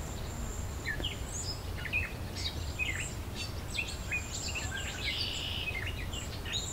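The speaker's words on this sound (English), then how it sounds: "And a little bit of swallow calls." Faint, distant swallow calls mix with other songbird chirps and twitters in a summer morning chorus in Southern Ontario, Canada, over a steady low rumble of outdoor background noise.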